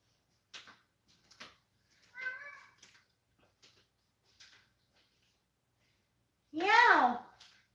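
A pet cat named Trouble gives one clear, drawn-out meow near the end, after several faint knocks and small household noises in a quiet room.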